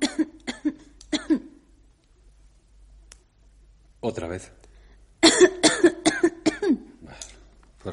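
A patient with asthma coughs on command during a doctor's chest examination in a radio drama, several short sharp coughs in bursts, with a voice speaking briefly between them.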